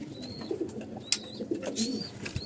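Pigeons coo softly at close range in several short, throaty bursts, with faint chirps and a few sharp clicks around them.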